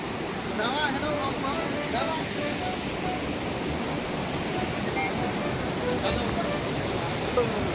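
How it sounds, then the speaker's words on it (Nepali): Steady rain falls outside near a hillside cave in Makwanpur, Nepal, a dense continuous hiss close by with faint voices and scattered sounds mixed in. "अनि बाहिर चाहिँ परिरहेको छ पानी"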